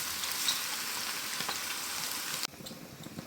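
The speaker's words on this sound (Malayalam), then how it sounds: "എണ്ണ നന്നായിട്ട് ചൂടായിട്ടുണ്ട് അതിലേക്ക് ഞാൻ നമ്മുടെ ചെമ്മീൻ ഇങ്ങനെ പറക്കിയിട്ട് കൊടുത്ത് നമുക്കൊന്ന് വറുത്തെടുക്കാം" Prawns fry in hot oil for a pickle, a dense, loud, steady sizzle close by that drops abruptly to a quieter crackle near the end.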